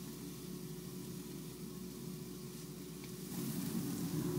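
Food sizzles steadily in a pan as a continuous broadband hiss, moderately loud and unbroken, growing a little louder toward the end, with no talking.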